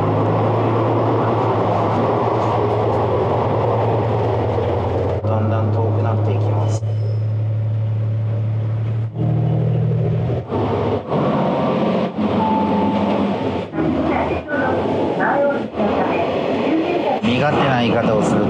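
A local train on Shikoku's Dosan Line pulls out of Tsubojiri Station, a mountain switchback stop, with a steady low engine rumble and rolling rail noise close by, broken by clunks and shifts in tone as it gets under way.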